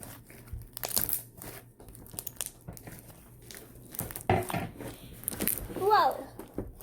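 Crunchy slime squished and poked by hand, giving scattered crackling and crinkling crunches at close range, with a brief voice near the end.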